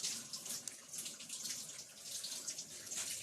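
Water boiling for coffee makes a steady, soft hiss and bubbling rush that holds for a few seconds, close and quiet with no voices.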